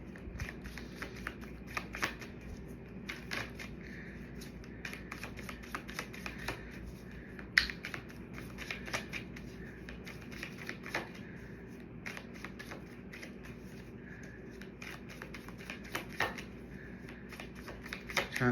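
Tarot cards shuffled by hand in a steady run of soft riffling bursts and light slaps, close and clear, with no talking.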